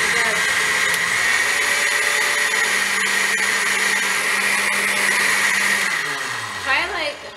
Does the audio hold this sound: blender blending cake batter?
yes